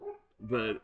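A dog, excited about a delivery man who gives him treats, lets out a short nearby harmonic howl-like whine lasting under a second, right after a brief spoken word.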